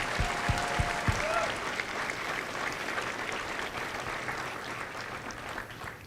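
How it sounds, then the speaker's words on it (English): A crowd at a Marine Corps recruit graduation at MCRD San Diego applauds its recruiters, a sustained wash of clapping from an outdoor audience, fairly distant and even, with a few louder thumps near the start. "a round of applause for our Marine Corps recruiters"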